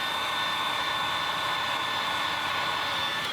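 A heat gun blows hot air along the score line of a plastic tab strap, a steady, close, hissing fan roar with no variation and no talking.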